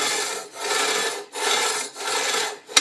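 A hand file rasps along metal in four long, even strokes with brief gaps between them, close and loud, ending in a sharp clink.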